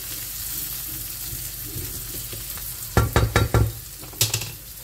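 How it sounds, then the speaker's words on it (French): Onions cooking in a pan give a soft steady sizzle, then a cluster of sharp utensil knocks and scrapes near the end. "je vais bien laisser cuire mes oignons"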